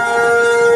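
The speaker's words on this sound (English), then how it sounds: "You can hear the warning sirens going off," A loud, steady wailing air raid warning siren holds at a constant pitch in Kaohsiung, Taiwan, during a civil preparedness test, filling the short clip.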